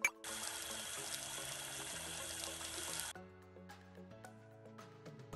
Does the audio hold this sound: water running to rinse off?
yes